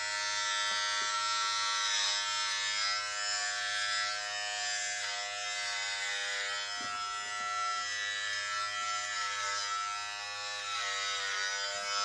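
Electric clippers buzz steadily and close up while shaving a head, a constant tonal hum lasting throughout with only slight changes as the blade moves.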